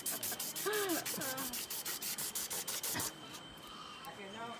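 A rough forest leaf is rubbed like sandpaper in a rainforest setting in Taman Negara, Pahang, giving a rapid run of scratchy, regular strokes close up, with a voice speaking over them before the rubbing stops.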